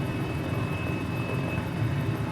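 A Mini 500 helicopter engine hums in Microsoft Flight Simulator, a steady droning rotor and engine tone with a thin high whine, continuous and close, no voices.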